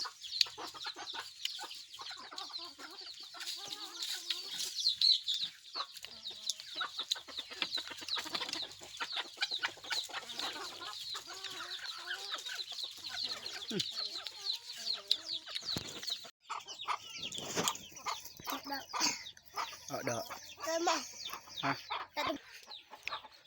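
A flock of chickens at a rural Thai home clucks and squawks steadily, dense overlapping calls from several birds nearby, continuing without a break and with no talk over them.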